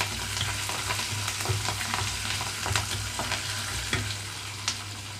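Finely chopped green chillies frying in oil for semiya lemon pulihora, a continuous close sizzle with scattered crackles and sharp stirring clicks over a low steady hum, no talking.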